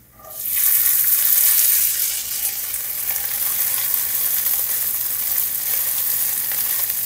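Rice poured into hot garlic oil sets off a sudden loud, steady sizzle that quickly swells and keeps crackling evenly, close up and with no voices.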